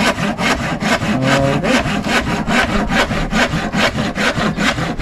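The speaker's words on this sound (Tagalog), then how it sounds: "O kaya mano-mano lang lagari gamitin natin." Manual hand saw cutting through rubberized material in steady back-and-forth strokes, about a dozen rhythmic rasping passes, close and loud, with a brief spoken word at the start.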